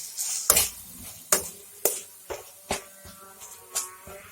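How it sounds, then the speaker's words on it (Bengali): Ground spices and coriander powder in a little oil are stirred in a pan for egg curry, a spoon scraping in about nine sharp, evenly spaced strokes over a soft frying hiss. "আবারও ভালো করে কষিয়ে নেব।"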